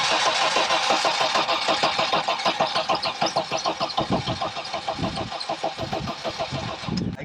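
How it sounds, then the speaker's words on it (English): The engine of a 1986 Audi 4000CS Quattro cranks with a rapid rhythmic churn for several seconds, then catches and sputters into a rough, uneven idle, loud and close. "I'm gonna try to start it"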